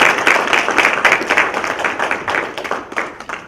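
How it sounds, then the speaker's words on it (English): Applause for two candidates at a judicial candidate forum, a crowd of hands clapping with distinct sharp claps throughout, steady and fairly loud for about three and a half seconds. "Let's give these two candidates a round of applause."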